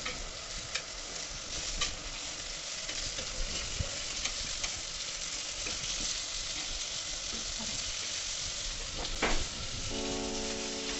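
Surmai fish pieces fry on a hot tawa with a continuous soft sizzle and occasional crackle, close and fairly quiet, with no talk.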